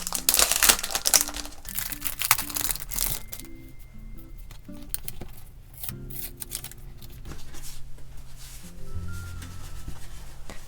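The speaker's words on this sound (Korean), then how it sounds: "엽서도 한번 뜯어볼게요" Postcard packaging being torn open and unwrapped: crinkly, crumpling paper and plastic rustles with sharp rips in the first few seconds, then quieter handling and rubbing, close up with no talk.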